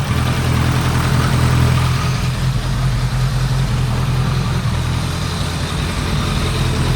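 A 2001 Kawasaki ZRX1200R motorcycle engine idles during carburetor tuning, a loud, close, steady low rumble that holds evenly throughout with no voices.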